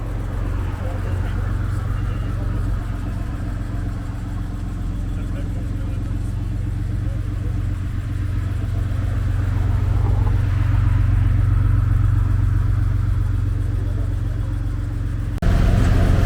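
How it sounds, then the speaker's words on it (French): Porsche Cayenne S E-Hybrid with a KFF valved exhaust line, a steady low engine drone that swells slightly toward the end, with continuous talk over it. "Avec une ligne d'échappement à valve qui vient de chez KFF."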